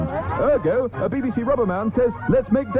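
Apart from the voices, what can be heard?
No everyday noise stands out behind the speech.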